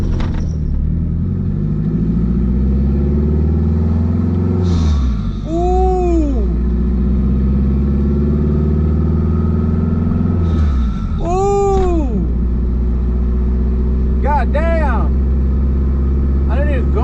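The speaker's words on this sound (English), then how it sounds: "Maybe just enough to hear the turbo, but just want to make sure it drives right." A turbocharged K24-swapped Honda EG hatchback drives along at a steady low rumble from inside. Three times it accelerates in short bursts, rising whine and all, and speech is heard within the cabin.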